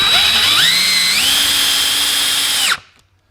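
A power drill drives screws while greasing Can-Am Maverick X3 wheel bearings, one continuous close whine that climbs in pitch as it speeds up, holds steady, then stops abruptly.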